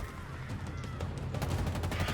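Enemy sniper and other gunfire in Halo Infinite, heard as a dense, steady rattle of shots that lasts about two seconds, fairly loud, with no voices.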